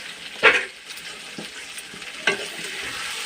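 Chicken milk korma sizzles steadily in separated oil, with two louder scraping stirs of a spoon through the pan breaking the constant frying hiss; close and alone, no talk.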